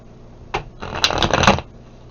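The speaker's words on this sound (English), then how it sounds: "I can't help that you have to wait for the shuffling" Tarot cards are shuffled close by in one quick burst, a short papery riffle of about a second with crisp flicks and no talking.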